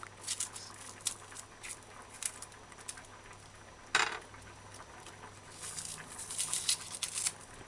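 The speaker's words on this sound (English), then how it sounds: "what I like to do is cut the onion in half" Close knife work on an onion on a cutting board: scattered light taps, scrapes and crackles of peeling skin, with one sharper chop midway and a busier patch of cuts near the end.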